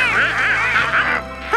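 A cartoon mother goose honks and quacks in a string of nasal, wavering calls over about a second and a half, loud and close, with a short pause before a final honk.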